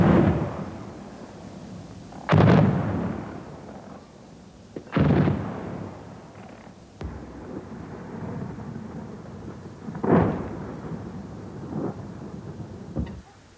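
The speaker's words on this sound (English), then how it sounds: "Then the ripping sound as a multi-barreled rocket launcher opened up on yet another target." During the 1982 war in Lebanon, a multi-barreled rocket launcher fires in several heavy, booming salvos. Each blast is loud and followed by a long rumbling decay, with quieter gaps between the bursts and no talking.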